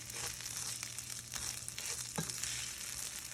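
Rice and onion frying in a pan for Mexican rice, a steady dense sizzle with faint crackles and a soft scrape near the end, no voices.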